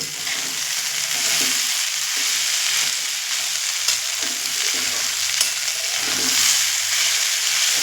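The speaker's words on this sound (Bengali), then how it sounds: "এইভাবে নেড়ে নেড়ে ভেজে নিতে হবে দেখুন লতি কিন্তু আমার হয়ে এসেছে" Taro stolons (kochur loti) with shrimp stir-fry in a pan, a loud, constant close sizzle with faint stirring scrapes recurring throughout.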